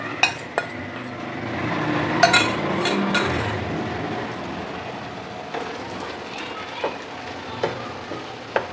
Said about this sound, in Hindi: फाइनली अब हम इसमें शामिल करने लगे हैं नूडल्स